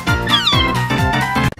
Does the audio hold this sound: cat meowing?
yes